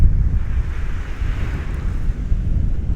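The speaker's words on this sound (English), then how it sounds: "The waves are calming down a bit out there as well, now we've got a bit of depth." Sea waves roll onto Kilnsea beach on the Holderness coast with a low, heavy rumble, while strong wind buffets the microphone in uneven gusts.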